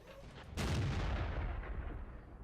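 A tank gun fires blind in World of Tanks, one heavy boom that cuts in sharply and trails off into a long rumbling decay, loud and alone without speech.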